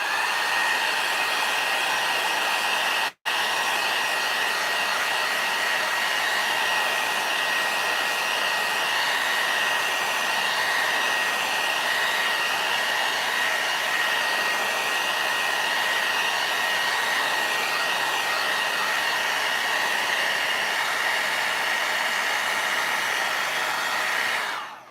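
A hair dryer blows steadily and loudly on crackle medium paint, one long unbroken whine and rush of air with a single brief dropout near the start before running on to the end.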